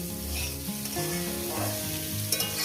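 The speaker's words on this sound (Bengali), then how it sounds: "এটা আমি একদম গ্যাসটাকে লোটে করে দিয়েছি আস্তে আস্তে করে আমি এটাকে ভাজবো" Mourala fish with sliced onion and a few garlic pieces frying slowly in a pan over a low gas flame, giving a steady, close sizzle that runs throughout with no talking.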